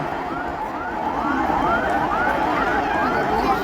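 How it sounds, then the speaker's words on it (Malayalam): An ambulance siren passing through a crowded temple festival at Sree Bhoothanatha Temple, its rising and falling wail repeating steadily and loudly over a dense hubbub of the crowd. "ആംബുലൻസ് അങ്ങോട്ടൊന്ന് കടന്നു പോകാൻ അവസരം ഒരുക്കി കൊടുക്കണം"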